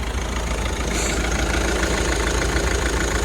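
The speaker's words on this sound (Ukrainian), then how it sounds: "Ось двигун працює, як має працювати рівненько, чистенько не піддимлюють." A car engine idles steadily and evenly up close, a smooth continuous low rumble with faint rhythmic ticking and no talking.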